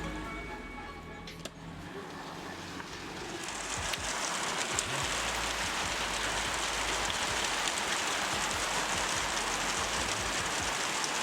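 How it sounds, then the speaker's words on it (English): Steady rain falls outdoors during a live cooking session, rising into a dense, even hiss of drops on surfaces after a quieter start with someone speaking briefly. "It is raining."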